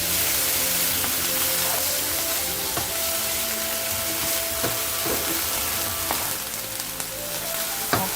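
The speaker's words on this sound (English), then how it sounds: "Okay, so let this fry up nicely." Fresh onion and blended garlic fry in a pot for a chicken and cabbage stew, giving a continuous close sizzle with crackling pops scattered throughout and no talking.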